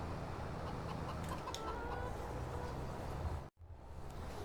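Chickens cluck at a coop in Farming Simulator 22, a quiet, steady barnyard murmur of scattered clucks under constant ambient noise, with a brief dropout near the end.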